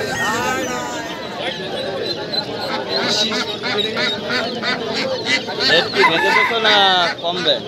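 Roosters crow and hens cluck near and loud at a rural animal and bird market in Nadia, with ducks and geese among the stalls, while people talk over the busy layered calls.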